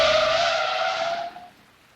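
A car brakes hard, its tires letting out one loud, sustained skid squeal that fades and cuts off after about a second and a half.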